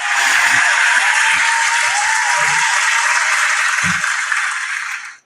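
Loud, dense clapping like a burst of applause fills the clip steadily, with faint low voices underneath, before cutting off abruptly at the end.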